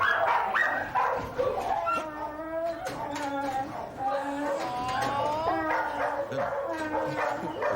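A dog named Red, shown in news footage, barks, yips and whimpers over a busy, layered background of other noises. The barking sounds fairly close and fills most of the stretch.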